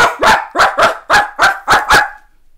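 A man imitates a dog with his voice, giving six loud, deep barks in a steady rhythm, close to the microphone, then falling quiet.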